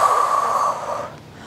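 A single forceful breath pushed out through the nose and mouth during an abdominal exercise that protects the pelvic floor. It is loud and close, hissing for about a second before it fades.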